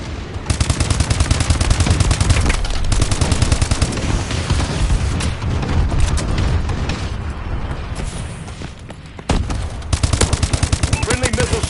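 Loud, relentless gunfire and explosions from a bombing run and missile strikes in Call of Duty Advanced Warfare on PS4, with rapid bursts layered over booming blasts and a brief lull before the barrage resumes.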